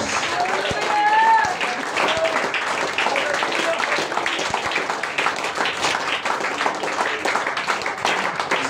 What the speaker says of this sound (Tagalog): Yung palakpak na hindi pamatay lamok, yung palakpak na nakakayanig ng tulong ng Diyos.